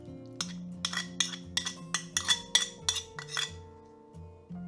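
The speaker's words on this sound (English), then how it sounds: "whisk them all together until well combined" A whisk clinks repeatedly against a bowl while dry snickerdoodle cookie ingredients are mixed, giving a quick rhythmic series of bright metallic taps, close and clear, with no talking.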